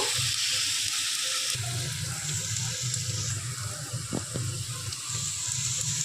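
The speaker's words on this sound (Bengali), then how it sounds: "পেঁয়াজটা একটু ভাজা ভাজা হয়ে আসছে।" Onion frying in a pan gives a steady, fairly loud hiss and sizzle with a watery, tap-like wash, running continuously with no voices.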